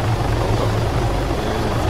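Helicopter in the video game Arma 3 Altis Life: a steady, loud, close rotor and engine drone with dense low chopping, continuous throughout with no talk.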